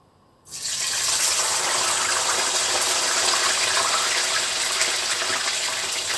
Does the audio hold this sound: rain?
no